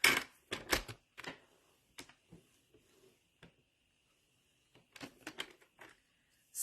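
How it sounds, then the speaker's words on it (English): Scoring a paper card for a mini slimline envelope: a run of short, dry tapping clicks and scrapes, loud at first, then sparse soft taps, then another cluster near the end, with no talk. "you're going to rotate this and you're going to score at 1"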